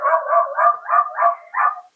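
Several dogs bark outdoors in a quick run of six repeated barks, moderately loud and evenly spaced, with no talking over them.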